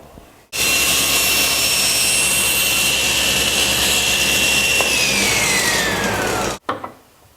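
A SawStop table saw makes a 45-degree miter cut through a wooden board: the motor spins up, holds a loud, steady whine with a rising blade tone for about six seconds, then cuts off and winds down.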